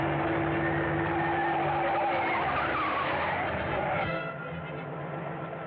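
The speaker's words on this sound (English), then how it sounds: "That car in back of us seems to be sticking on our tail." A car tailing another on a city street in a Dick Tracy radio drama drives right by, a loud close engine roar with a whining tone that sweeps past and fades slightly near the end.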